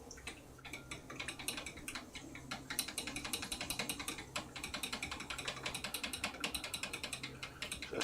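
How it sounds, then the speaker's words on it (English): A fork whisks pancake batter inside a measuring cup, giving a steady stream of quick, light clicking taps against the cup that runs continuously at close range. "we're just going to kind of whisk this up as well as we can inside of this measuring"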